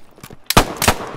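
Gunfire in the tactical shooter game Operation: Harsh Doorstop, a few faint distant pops followed by two sharp, loud nearby shots in quick succession.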